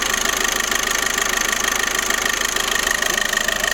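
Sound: VW Golf 1.6 TDI engine revved with the throttle

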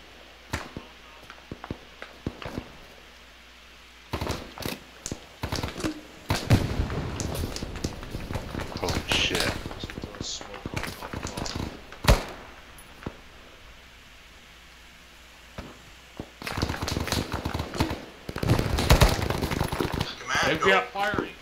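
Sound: incoming gunfire, likely from a military video game

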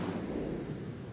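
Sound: artillery fire support from a video game

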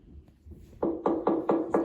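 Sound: doorbell or knocking at the door, played from a phone

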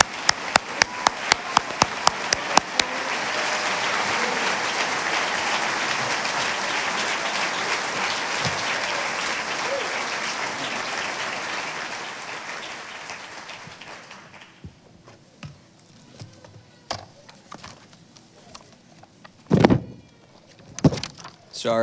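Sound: commencement audience applauding salutatorian George Palakis

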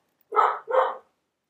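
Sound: dog barking

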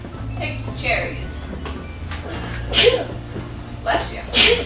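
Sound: sneeze

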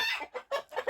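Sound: chickens clucking in a poultry house

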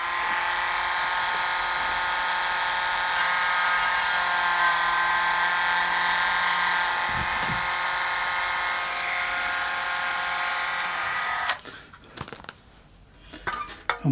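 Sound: drilling out solder

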